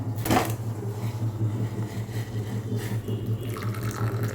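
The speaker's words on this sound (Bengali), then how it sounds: "একটু জল নিয়ে নিলাম দুধটা গুলবো বলে" Water runs from a kitchen tap to mix powdered milk for tea, a brief gush near the start followed by a low steady flow and faint clinks nearby.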